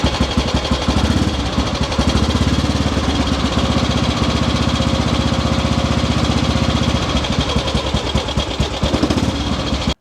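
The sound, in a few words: motorcycle engine running after restoration, with electric starter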